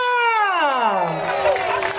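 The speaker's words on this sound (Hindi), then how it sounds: "तो please इस time boys के लिए जोरदार तालियां" Crowd at a carnival event cheering and whooping for the boys, a loud descending shout sweeping down into broad noisy applause and crowd noise close by.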